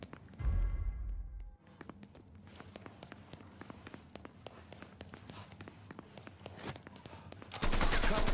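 Gunfire in the crime game Mafia: a low thud, then a rapid run of sharp distant shots and clattering bursts, with a louder loud roaring burst at the end.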